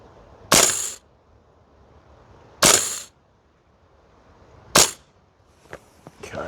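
VFC L403A1 airsoft rifle firing on an outdoor range, three sharp single snapping shots spaced about two seconds apart, followed by a few fainter clicks.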